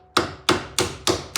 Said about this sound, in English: if it needs a little persuasion, you can always use that same hammer